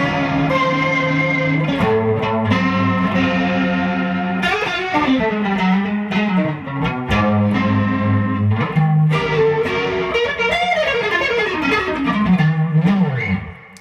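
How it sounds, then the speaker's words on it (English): Distorted electric guitar with a swirling chorus effect placed early in a pedal chain, feeding distortion pedals, playing chords and sliding notes continuously and loudly throughout, with no voices. "I like the way the chorus sounds through distortion"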